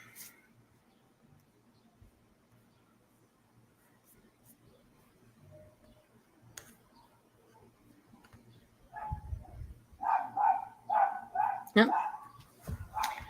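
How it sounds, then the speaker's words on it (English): A neighbour's dog barks at a distance, a run of repeated moderately loud barks near the end following a quiet stretch of faint room sound, with a brief spoken word earlier. "There goes my neighbor's dog, barking like usual."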